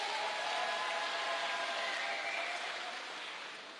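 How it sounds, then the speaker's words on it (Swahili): Sustained applause from a gathered crowd greeting Rigathi Gachagua, a steady dense wash of clapping that holds loud and even, then tapers slightly toward the end. "Tumpigie makofi."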